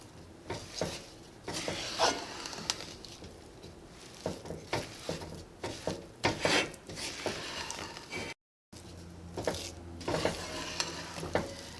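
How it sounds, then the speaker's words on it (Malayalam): A spoon scrapes and stirs a mixture of rice, peanuts, coconut and jaggery in a pan in irregular strokes, with a soft sizzle underneath and no talking. "ഇതെല്ലാം കൂടിയിട്ടൊന്ന് മിക്സ് ചെയ്യാം."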